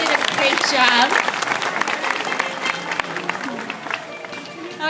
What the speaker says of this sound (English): Why don't we give Scooter one more big round of applause for showing us how we train.